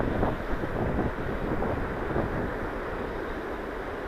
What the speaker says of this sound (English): It's definitely windy, ain't it?